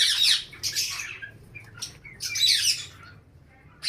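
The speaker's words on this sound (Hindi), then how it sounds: "और यहाँ लव बर्ड्स और बाकी पैरट्स हैं यहाँ पर" Caged lovebirds and other parrots give harsh, bursting squawks and chirps in several separate calls, fairly close, with no talk.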